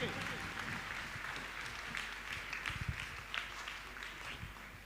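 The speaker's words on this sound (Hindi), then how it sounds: "एक बार आपकी तालियां दोनों हाथ उठा करके" An audience at a Jain religious discourse during the Dashlakshan festival applauds with raised hands, sustained clapping over room noise with some voices mixed in.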